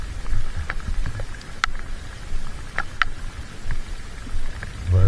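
Light rain falls during a bass fishing outing at a pond: soft, steady patter with scattered distinct drops and brief ticks, fairly faint and without voices.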